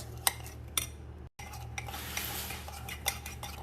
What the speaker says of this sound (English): now we will have to mix coffee and sugar very well for 10 or 20 minutes